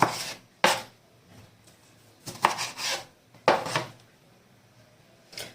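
A knife chops lemons and a tomato lengthwise on a cutting board, giving about five or six sharp, close cutting knocks at irregular intervals with quiet pauses between.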